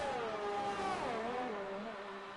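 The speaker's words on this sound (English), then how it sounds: "that gearbox sounds really weird even from the outside" A Williams Formula racing car in a racing video game, its odd-sounding gearbox whining through a steady engine drone that dips and rises in pitch, heard faintly from outside the car.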